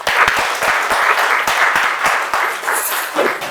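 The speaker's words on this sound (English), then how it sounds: "Let us clap for him." A gathering at a diocesan climate change and disaster risk discussion claps for the senior environment officer, close, loud hand claps with individual sharp strikes standing out from the steady applause.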